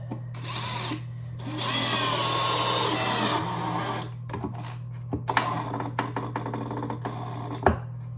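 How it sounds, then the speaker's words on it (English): A power drill in reverse whirs in two sustained bursts on a screw with a pause between, followed by scattered clicks and rattles nearby. "I'm gonna put my drill in reverse"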